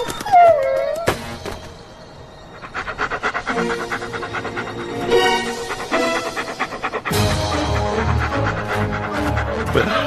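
Cartoon dog heard howling and panting in an animated vampire school series, a short rising howl followed by busy whimpering and panting over background music.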